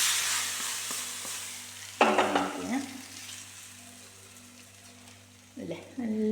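Heated oil poured into mango pickle gives a sudden loud sizzle that fades over about a second, then a second burst of sizzling near the end, close up over a quiet kitchen background with no talk.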